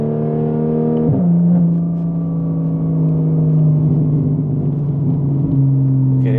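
A Porsche Cayman S 3.4 with a straight exhaust revs hard near its 7800 rpm limit, the engine note holding a steady high drone with a couple of sharp shifts in pitch, loud and close throughout.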